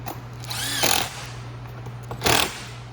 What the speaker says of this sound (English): And then just inset the screws just like that.